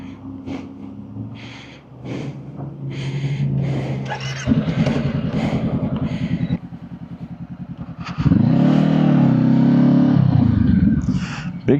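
A motorcycle rumbles close by, its engine note climbing and dropping through several loud revs and gear changes with a rough, throbbing pulse throughout.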